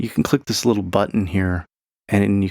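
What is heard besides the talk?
No distinct noise like a dog, phone or traffic.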